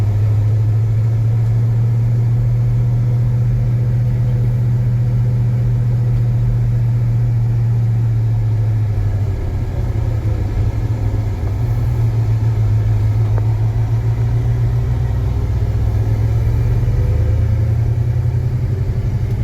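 A 1967 Chevrolet Chevelle SS 396 V8 rumbles low and continuous while cruising through a neighborhood, its steady engine drone shifting in pitch partway through, heard from inside the car.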